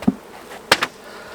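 Honey bees buzzing around hive frames during honey harvesting, a few brief close passes and knocks standing alone against a quiet background.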